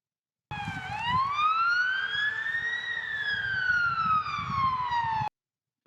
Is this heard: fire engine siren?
yes